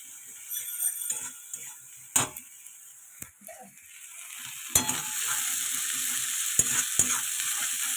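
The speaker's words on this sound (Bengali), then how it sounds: "এইভাবে এটাকে কষে নেব আস্তে আস্তে" Food being stirred and slowly sautéed in a pan in a tiny home kitchen, soft sizzling under scattered scrapes and clinks of a spoon against the pan, close and moderately loud, no speech.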